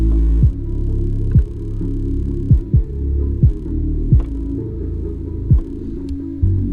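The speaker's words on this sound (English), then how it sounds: "So that Rockville sub on the Pioneer plug and play amp, nothing to brag about." A Rockville subwoofer driven by a Pioneer plug-and-play amp, low-pass filtered, in the rear deck of an Acura TSX thumps out deep bass beats over a constant low hum, loud and close.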